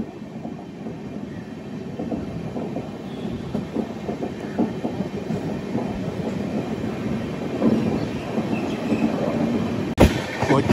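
Bengaluru to Tirupati intercity train from SMVT running near Krishnarajapuram, a steady low rumble of rail wheels and carriages with faint clatter throughout and a brief sharp knock near the end.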